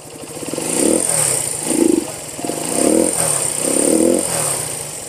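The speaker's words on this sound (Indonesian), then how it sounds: "Dan mesinnya halus banget mesinnya kayak tepung." A 1973 Honda CB 125 motorcycle engine idles smoothly up close, its steady putter swelling gently in a few rhythmic waves. A high whine sits above the engine, and no voice is heard.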